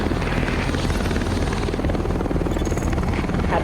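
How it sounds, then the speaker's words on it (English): An extraction helicopter in a survival video game flies steadily, its rotor throbbing in a continuous, fairly loud chopping drone with no other sounds over it. "you will be picked up by the extraction helicopter"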